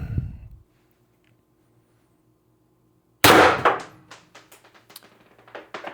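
A Pistelle X-68 CO2 air pistol fires into a pellet trap: one loud, sharp crack, then a scatter of small metallic rattles and taps as it settles, with a brief thump just before.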